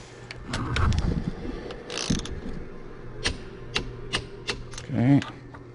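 Torque wrench clicking and ratcheting while tightening connecting rod bolts on a Cat 3406 diesel engine during a piston install, a series of sharp mechanical clicks and metal taps close by with low workshop hum underneath.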